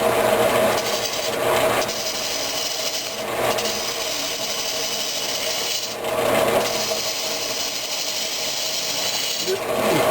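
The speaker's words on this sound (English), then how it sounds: "I'm just using 5/8 bowl gouge." A 5/8 bowl gouge cuts walnut on a lathe while a table lamp is turned, giving a steady, loud, continuous rasping hiss that swells slightly a few times and carries no talk.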